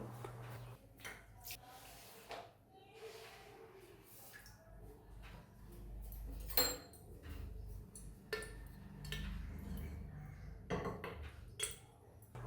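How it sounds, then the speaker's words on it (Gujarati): Kitchen clatter as a pressure cooker is set on the stove to heat about two spoons of ghee for jeera rice: intermittent close clinks and knocks of metal utensils over a low steady hum, with no talk. "સૌથી પહેલાં આપણે એક કુકર લેશું, તેમાં 2 ચમચી જેટલું ઘી ગરમ કરવા મેલીશું"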